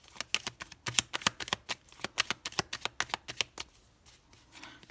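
A deck of tarot cards is shuffled nearby in a fast, even run of crisp riffling snaps that slows and thins toward the end, with no talking over it.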